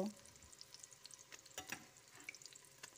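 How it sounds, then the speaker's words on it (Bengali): Hilsa fish egg fritters deep-frying in oil over medium heat, a soft steady sizzle with scattered crackles and pops, fairly quiet throughout. "মিডিয়াম আঁচ রেখে বড়াগুলোকে ভালো মতন ভেজে নেব"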